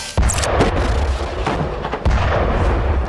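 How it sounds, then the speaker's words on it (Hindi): A rocket fired from a ruined house at Israeli soldiers in a war zone, heard as loud, close booming blasts with a sharp burst near the start and another heavy impact about two seconds in, over continuous rumbling noise. "तभी एक खंडर हो चुके घर से रॉकेट दागा जाता है। तेज धमाका और आग की लपटों में इजरायली सैनिक खाक।"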